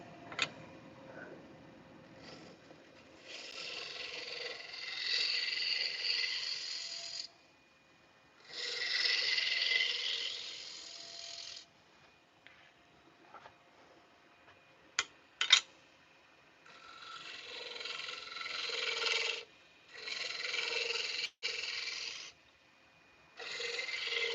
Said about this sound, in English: We'll go for our gooseneck here, or gooseneck, traditional tools, 3/8 Doug Thompson bowl gouge.